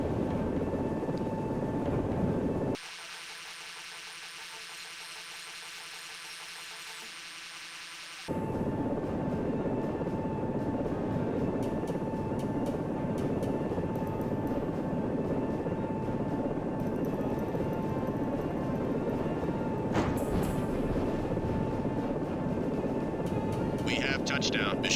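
A helicopter in a French video game flight simulator drones steadily with rotor and engine noise, briefly cut to a quieter muffled stretch before the full roar returns, with a voice talking over it.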